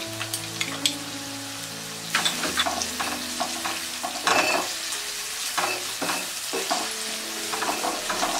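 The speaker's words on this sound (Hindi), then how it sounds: "गार्लिक फ्राई होने के बाद हम डालेंगे ये अनियन, ये कैश्यू नट्स" Onions and cashew nuts sizzle in oil in a pan after garlic, with steady crackling frying and intermittent scraping stirs from a spoon, fairly quiet and close, no talk.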